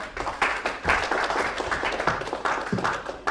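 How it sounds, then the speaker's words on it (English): Brief round of audience applause at a magic show in a small hall, moderate scattered clapping with uneven bursts, fairly quiet and without talk. "Everyone give me a little round of applause"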